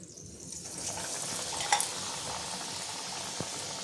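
Vada pav balls coated in batter fry in hot oil, giving a dense continuous close sizzle that swells early on, with a brief utensil clink partway through.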